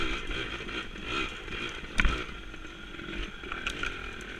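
A dirt bike engine bogs and sputters on a trail ride, a ragged, uneven motor sound with a brief louder burst midway.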